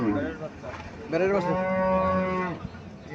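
A Friesian dairy cow gives a single long, loud moo close by at a cattle market, rising and then holding steady before trailing off.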